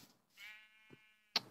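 A drawn-out sheep bleat from the video game Life in the Woods, fairly faint, followed by a soft thud and a short sharp click.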